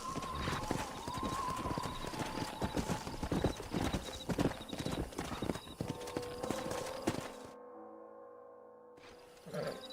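Horses walking in the Western video game Red Dead Redemption, with a steady clip-clop of hooves and a soft whinny over ambient game sound, before it cuts to a quieter scene.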